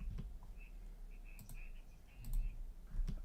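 Faint, sparse mouse-button clicks from a computer sound amid low background hum, a few isolated taps scattered across a quiet stretch.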